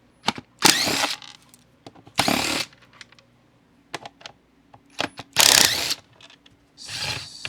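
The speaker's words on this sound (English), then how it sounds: "Let's use the Makita Impact." Makita impact driver backing screws out of a Makita chainsaw and blower during a teardown, several short loud bursts of rattling hammering separated by quiet pauses and small clicks and handling noises.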